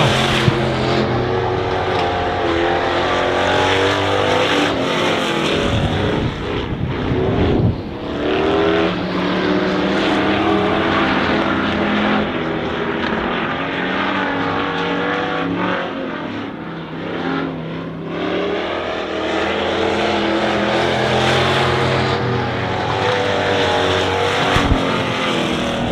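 Race cars in a 20-lap feature at Honor Speedway roar continuously at high volume, engines droning and surging together with no talk over them.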